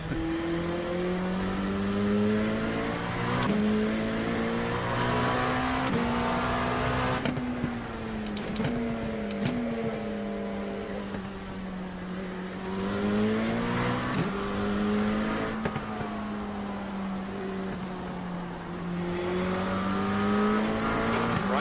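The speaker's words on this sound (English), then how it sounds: "Love the sound of LMP2s. Sound really angry." LMP2 prototype race car engines roar and rev hard at Sebring during an IMSA race, pitch climbing through gear after gear with brief shift dips, loud and close, as other cars howl past.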